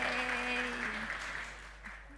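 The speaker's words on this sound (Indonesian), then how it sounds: "Tepuk tangan dulu buat Ustadz" Audience clapping for an Ustadz at a Ramadan event, a brief burst of applause fading over two seconds with a voice briefly audible at the start.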